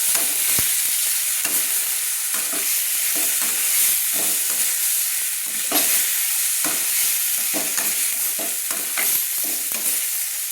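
Ground spices sizzle and fry in hot oil for a Bengali fish curry with cauliflower and potato, with steady hissing broken by repeated scraping stirs of a spoon in the pan, close and fairly loud, with no one talking.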